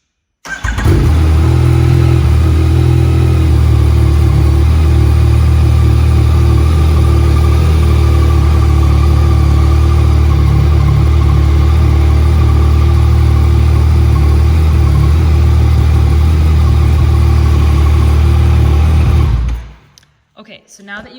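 A 2015 Yamaha FZ-09 motorcycle engine runs at a steady, loud idle close by for about twenty seconds, a constant low rumble that then cuts off abruptly, leaving near silence.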